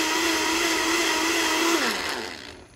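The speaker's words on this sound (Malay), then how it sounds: "Kita blender dia hancur sikit." An electric kitchen blender whirs steadily as it grinds bay leaves into small pieces, a loud continuous motor drone that holds for most of the stretch, then its pitch drops as it winds down near the end.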